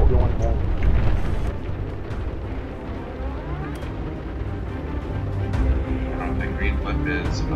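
Bombs dropped from a bomber explode in the World War II game Bomber Crew, a loud continuous rumbling roar of blasts under a voice talking throughout.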